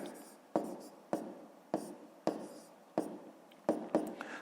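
Pen on paper writing numbers by hand for a fifth-grade maths exercise, a run of distinct scratchy strokes about every half second, quiet and close, with no talking.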